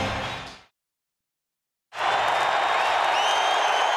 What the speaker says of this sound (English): the Falcons first had to overcome the roaring crowd inside the Metrodome